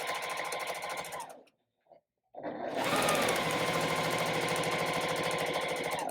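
Sewing machine stitching pinned strip-pieced quilt fabric, running steadily with a rapid mechanical whir and needle chatter, briefly stopping for about a second near the start before resuming at a constant close, loud pace with no talk.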